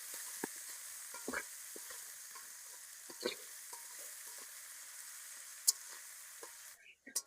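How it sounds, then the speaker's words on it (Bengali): Onions frying in a pan after fish has been fried, with salt added, giving a steady soft sizzle and occasional stirring scrapes and clinks close by. "পেঁয়াজ ভালোভাবে ভাজা নেব।"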